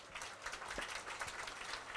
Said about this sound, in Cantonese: 幫我俾啲掌聲